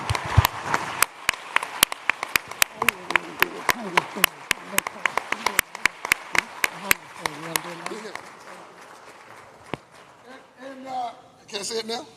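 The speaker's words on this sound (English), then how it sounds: "Please give these people a round of applause" An audience at a global forum breaks into a round of applause, sharp scattered claps that thin out toward the end, with voices talking over the final stretch.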